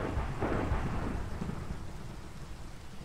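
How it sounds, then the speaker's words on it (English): A thunderstorm with rain in the Minecraft video game: thunder rolls loudly at first, then fades under a steady wash of rain, with no voices. "Okay, so there's a thunderstorm."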